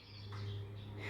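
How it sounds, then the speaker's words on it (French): Faint small birds chirping outdoors on a bright morning, a soft brief twitter over a low steady hum. "On entend les petits oiseaux."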